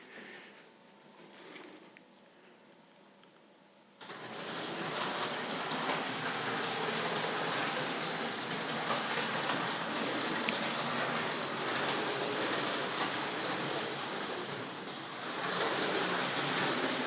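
A Morley Vanguard model train runs on Super 4 track, its wheels clattering in a steady, rushing rumble that starts abruptly after a few quiet seconds and continues close and even.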